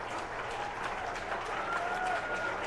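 Crowd at a WMBL finals baseball game cheering and clapping, a steady distant roar of applause and voices filling the whole stretch at moderate volume.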